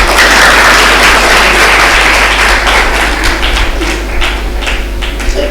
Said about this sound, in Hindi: तालियां मारो तुम लोग।